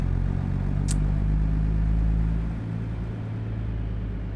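A low Cat 3406E diesel engine in a Peterbilt 351 in American Truck Simulator idles and rumbles steadily, close and constant, easing down slightly toward the end.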